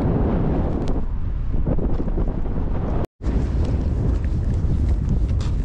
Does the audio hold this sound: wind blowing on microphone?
yes